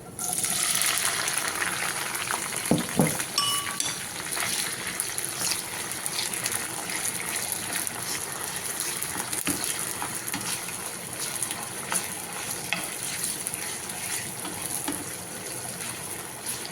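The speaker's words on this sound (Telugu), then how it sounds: "ఇప్పుడు నూనె మరుగుతుంది. పచ్చిమిరపకాయలు వేసుకున్నాం దీంట్లో." Steady hiss and crackle of green chillies frying in hot oil, continuous and close, with a few sharper pops near the start.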